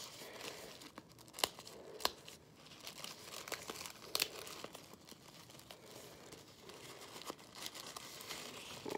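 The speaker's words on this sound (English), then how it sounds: "I'll just rip this" Paper and plastic packaging of a mail parcel ripped and crinkled open by hand, with sharp tearing bursts and ongoing crumpling at close range, no talk.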